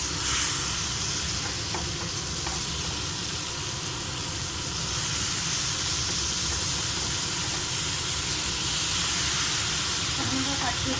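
Potato pieces frying in a pan of oil for aloo curry, a steady broadband sizzle and hiss running throughout at close range, with faint clinks near the start.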